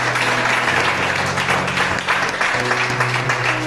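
A church congregation at a spiritual retreat in Paris clapping steadily and loudly together, with an organ or keyboard chord sustained underneath and no clear speech.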